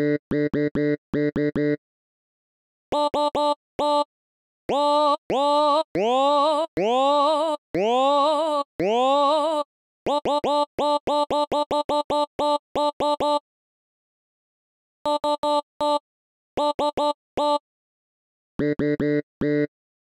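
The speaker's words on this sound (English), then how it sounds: "See how if the decay time gets quite short, you don't hear it as a conscious pitch movement, but you do still hear its effect." A vocal sample played through a sampler with a pitch envelope repeats in choppy bursts, the short decay making each note's pitch bend upward fainter and shorter until it reads as a plain stab, with gaps of silence between phrases.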